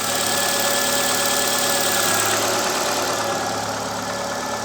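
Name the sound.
piston skirt knock in Ford Ka Sedan Sigma 1.6 engine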